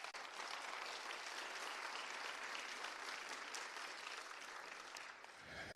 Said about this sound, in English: can we give a hand clap to DPD,